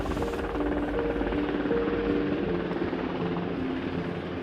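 A rescue helicopter roars close by, its rotor thumping in a steady, loud, continuous drone with a whining engine tone on top, with strong wind.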